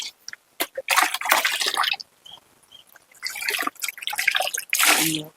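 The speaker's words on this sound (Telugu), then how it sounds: "ఈ వాటర్ని నేను ఒక పది కప్పులు వేస్తున్నా" Rainwater splashes and trickles into a container in several uneven bursts, with short pauses between pours, close and fairly loud, on a terrace garden.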